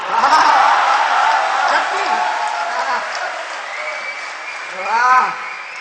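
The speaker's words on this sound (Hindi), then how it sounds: "मन की चीज मिल जाती है तो ताली बज जाती है।" An audience at a comedy poetry show at Lucknow University applauds, with laughter and crowd voices mixed in and a brief chuckle rising near the end.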